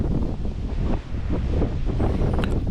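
A strong force-6 headwind buffets the deck of the Belem sailing ship after leaving Ostende, loud gusty wind roaring against the microphone with rushing sea noise beneath, continuous and alone.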